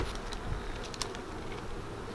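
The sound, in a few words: honeybees buzzing around an opened hive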